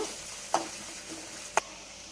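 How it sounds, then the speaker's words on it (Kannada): Sliced onion frying in a pan, a quiet steady sizzle with two sharp clicks of a stirring utensil against the pan. "ಈರುಳ್ಳಿ ಚೆನ್ನಾಗಿ ಫ್ರೈ ಮಾಡ್ಕೋಬೇಕು"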